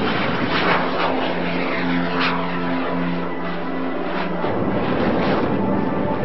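A swept-wing jet aircraft in flight gives a loud, continuous engine roar with a steady tonal whine layered inside, constant in level throughout and heard without speech.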